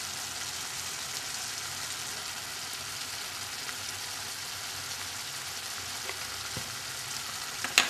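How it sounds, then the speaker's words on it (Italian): Pasta sauce with oregano cooks in a pan, giving a steady, even sizzle that holds at the same level from start to finish, close by and with no voices. "Lascio cuocere per qualche minuto e il sugo è pronto"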